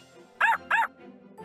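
A cartoon puppy in a Bubble Guppies children's game gives two quick, bright barks close up, followed by softer yips and game sounds.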